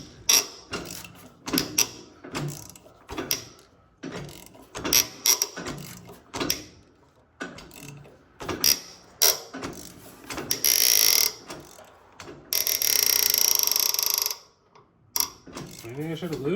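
A wrench tightens a bolt on a Red Rock Manufacturing 3-point position control fitted to a Ferguson tractor, giving close, irregular metallic clicks and short ratcheting bursts, with two longer rasping runs near the end.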